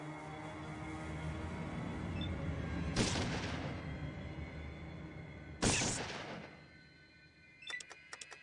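Gunfire in a Fallout video game: two loud sharp bursts of automatic fire a few seconds apart over a low background hum, followed by a quick rattle of small clicks at the end.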